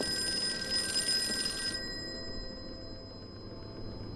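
A telephone rings nearby for about a second and a half, a steady bright electronic ring that cuts off and leaves a low hum of room noise.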